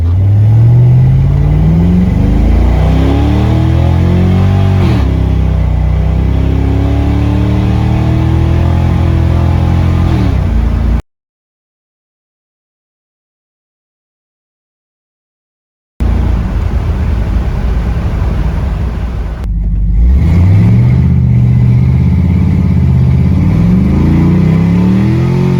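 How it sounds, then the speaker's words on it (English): LS V8 car engine, running on seven cylinders, revving hard through 0 to 80 acceleration runs with dumps closed and electronic dumps open: loud climbing engine roar with gear-change dips, a brief silent break midway, then another pull. "take it out for a spin, do some more 0 to 80 tests with dumps closed and the electronic dumps open"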